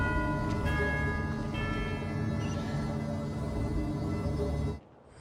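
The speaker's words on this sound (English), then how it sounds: "It was a nice sounding bell." A bell rings after a switch is activated in Genshin Impact, a sustained tonal chime over a busy game soundtrack that cuts off sharply near the end.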